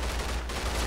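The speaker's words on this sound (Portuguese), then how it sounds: "Abaixa, muito tiro!" Rapid bursts of gunfire in the game Far Cry, a dense continuous crackle of close shots with low thumps throughout, loud and unbroken for under a second.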